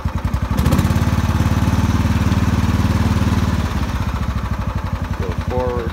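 Kubota T1560 lawn mower engine idling with a steady low chugging throb, close and loud, with brief revving at the start and a few mechanical squeaks near the end.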